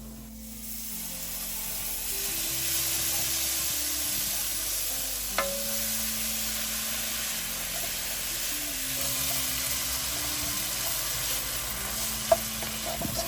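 Chicken stock poured gradually into a hot flour roux, a steady sizzling hiss with stirring scrapes running throughout, close and fairly loud, with a couple of sharp clinks from a utensil against the pan.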